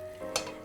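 Turmeric and red chili powder dropped into hot oil in a pan with the heat turned off, giving a brief, faint sizzle and stir with no one talking.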